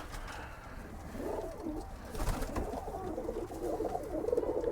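Several pigeons coo softly in overlapping low, rolling calls, a steady murmur of birds close by inside a pigeon loft.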